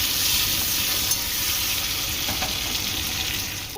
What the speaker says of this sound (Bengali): আলু খুব ভালো করে লাল লাল করে ভেজে নেব।